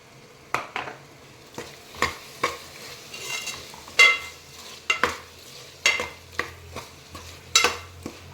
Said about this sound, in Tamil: கொஞ்சம் தயிர் ஊற்றி விடுவோம்